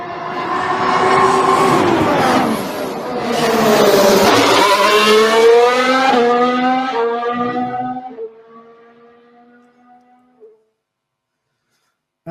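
A Formula 1 car's engine howls loudly, first pitched high and fast, then dropping as it slows through a corner before climbing hard again, then the whine fades away to near silence.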